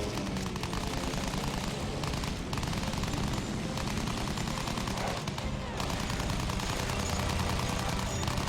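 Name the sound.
fighter plane machine gun firing in the video game Battlefield 1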